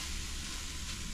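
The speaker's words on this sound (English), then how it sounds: "Next, we're going to cook down some bell peppers, onions, and celery." Bell peppers, onions and celery cooking down in a hot pan, a steady, close, bright sizzle that stays even throughout with no talking.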